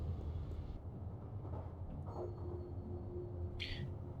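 A metro train in The Longest Journey video game rumbles steadily at low pitch, a sustained hum with a faint whine and a brief hiss near the end, no talk over it.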